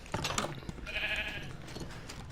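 A Minecraft sheep gives a single bleat in the game, a short wavering cry standing alone over faint background noise.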